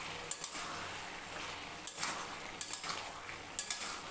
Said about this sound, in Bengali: ভালো করে নেড়ে চেড়ে নিয়ে আবারও আমি ঢেকে দেব দু মিনিটের জন্য